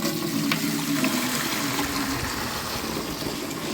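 Starchy water from washing old rice is poured out while making bulk hotel-style chicken biryani. It gives a loud, continuous gushing splash that holds steady from start to finish.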